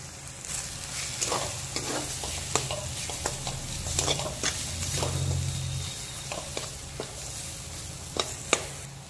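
Potato filling seasoned with roasted cumin powder and a little garam masala fries and sizzles in a pan for a steady stretch, with occasional scraping stirs of a spatula and no talk.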